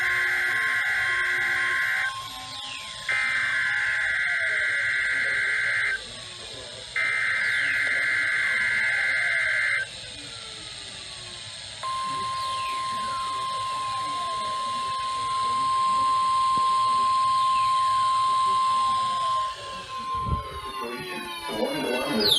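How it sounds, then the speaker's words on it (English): An Emergency Alert System weather warning tone from a winter storm broadcast: three loud, steady electronic header bursts followed by a long continuous attention tone, with a radio voice and background noise underneath. "The warning alarm has been followed by an actual watch or warning."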